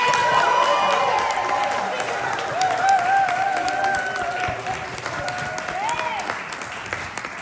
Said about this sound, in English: So I want you to give a big round of applause to Ines